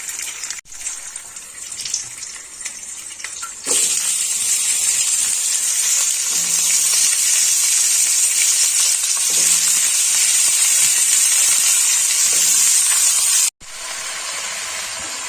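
Vegetables, including cauliflower, dropped into hot oil already tempered with nigella seeds and slit green chillies set off a loud, steady frying hiss that swells suddenly after a quieter opening crackle and runs on close, with brief breaks and no talk.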